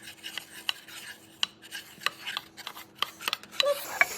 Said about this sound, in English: now we need to stir this up with a wooden spoon